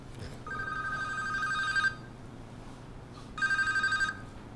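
A telephone rings twice in an indoor interview setting, two sustained electronic trilling bursts separated by a short pause, moderately loud over room hum.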